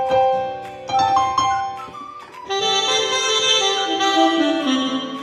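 A Yamaha PSR SX900 arranger keyboard plays through its output, bright layered melodic notes with a fuller sustained section joining midway, clean and close, with no talking.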